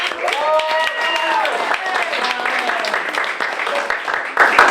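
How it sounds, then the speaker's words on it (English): Audience members at a poetry night clap for a poet in a continuous moderate burst of applause, with voices and cheers running through it and a brief louder flurry near the end. "One more round of applause for Helen"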